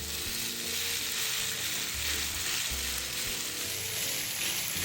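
Tofu and seaweed pancake batter with egg sizzles steadily in a preheated nonstick pan with oil over medium heat, a constant close hiss with no talk.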